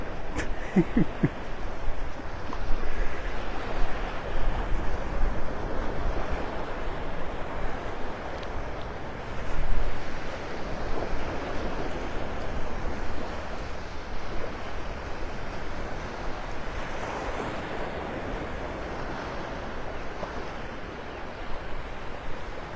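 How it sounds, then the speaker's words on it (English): Small ocean waves break along a beach in North Naples, Florida, a steady wash of surf with gusting wind noise and one louder swell near the middle, no voices heard. "You see where those little waves are breaking?"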